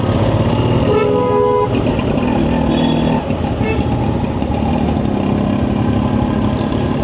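Heavy road traffic on a Chennai road near a tech park, heard from a motorcycle, with engine hum throughout and a cluster of car and bike horns tooting in the first half, busy and close.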